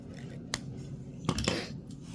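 Scissors snip the tag end of a fishing line after a knot is tied, giving a couple of sharp, close metallic clicks against quiet room noise.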